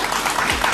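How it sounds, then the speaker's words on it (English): Studio audience applause at a live televised talk show, a dense, steady wash of clapping filling the short moment at even loudness with no voices on top. "That must be the applause for the whole part."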